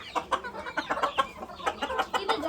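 Hens on a chicken farm cluck in a busy, overlapping run of short calls, close and fairly clear, with no talking.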